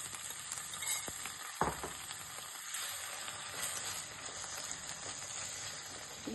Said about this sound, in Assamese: এতিয়া মই একেখন পেনতে মই এই চিকেনখিনি মই ফ্ৰাই কৰি ল'ম।